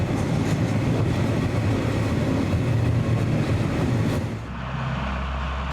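A freight train carrying export containers of milk powder and cheese rumbles steadily off the North Taieri line in New Zealand, a continuous mid-distance roar that drops away and quietens near the end.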